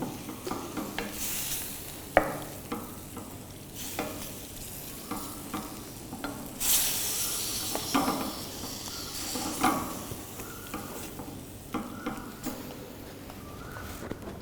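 Chicken stroganoff with white wine is stirred in a hot pan. A steady close sizzle runs throughout, broken by scraping strokes and occasional louder clatter as the spoon drags through.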